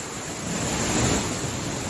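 Water running steadily down a high, steep hillside stream, a continuous broadband rush close to the microphone with some wind noise and no voices.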